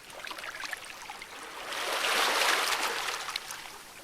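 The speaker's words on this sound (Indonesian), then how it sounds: "ombak," Ocean waves wash in a soft, steady hiss that swells to a broad surge near the middle and then eases back, with no talk over it.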